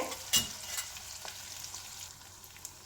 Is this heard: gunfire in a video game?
no